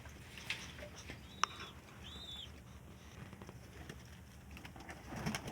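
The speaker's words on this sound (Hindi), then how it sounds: "ये ओड़ सारे तोड़ दी कबूतर बैठा है" A pigeon perched indoors coos softly a couple of times against a low background hum, with faint rustling and a brief sharp click partway through.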